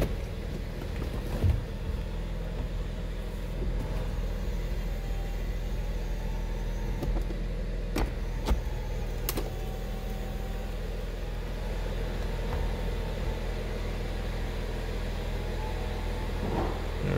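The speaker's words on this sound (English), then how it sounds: "Oh, let's get the top down here." A convertible's power top folds down as a steady low mechanical whir over the car's idling engine, with a few brief clicks and thumps along the way; no one speaks.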